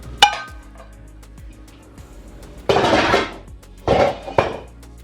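Metal kitchen pans being handled and stacked during decluttering, with a sharp clank at the start, then quieter pauses and two bursts of clattering, scraping metal, close and fairly loud without speech.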